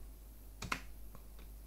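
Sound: pressing Enter on a computer keyboard

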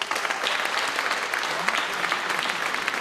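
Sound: audience applause

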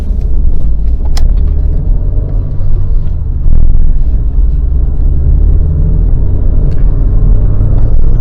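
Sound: Opel Astra G 1.4 car driving on test drive

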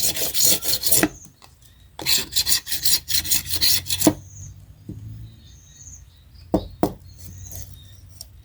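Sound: scraping bamboo strip with a blade's sharp edge

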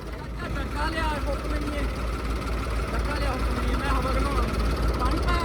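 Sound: tractor engine during a tochan pulling power show

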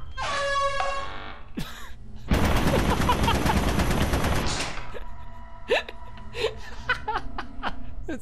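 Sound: turret gunfire in a video game

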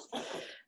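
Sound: child sneezing

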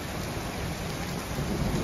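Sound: rain and thunder on a tin roof

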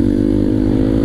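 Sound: motorcycle revving on hill climb, clutch snapped

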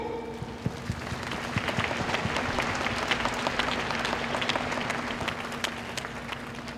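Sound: applause for the graduate representative at a graduation ceremony

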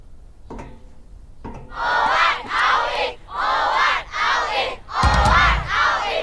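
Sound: schoolchildren crowd cheering

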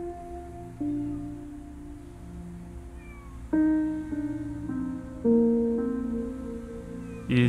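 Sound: cat meowing in video game Copycat

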